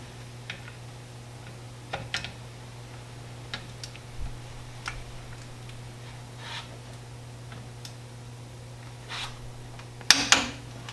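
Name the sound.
torquing brake caliper bolts with a Crescent wrench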